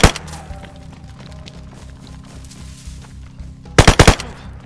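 A loud, rapid burst of automatic gunfire erupts near the end of a DayZ video-game scene, a few sharp shots cracking over a steady low droning hum.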